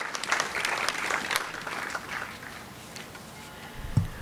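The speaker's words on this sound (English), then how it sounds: "Let's give a round of applause to all of those who work so diligently to make this" Applause from the audience at a Sunday symphony concert in Edwardsville, a crowd clapping steadily for about two seconds, then tapering off into quiet room sound.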